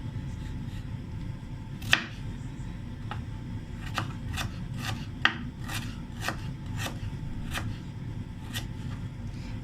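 Knife blade cutting fried garlic into large pieces on a board, a series of crisp, separate chops at an uneven pace over a low steady background hum, fairly close.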